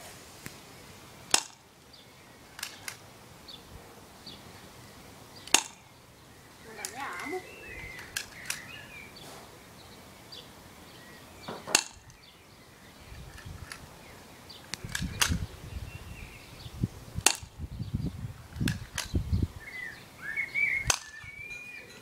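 Several sharp, isolated cracking pops from a softgun fire at irregular intervals, with quiet outdoor ambience and some birdsong between shots.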